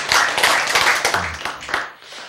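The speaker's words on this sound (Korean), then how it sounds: "박수!" A congregation claps together at a church sermon, a short burst of close, brisk handclaps that thins out and fades within about two seconds.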